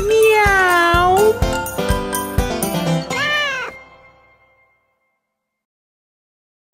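Cartoon cat meows in a Spanish children's song, a burst of several high sliding meows over a bouncy musical backing with bell-like tinkles, ending in silence.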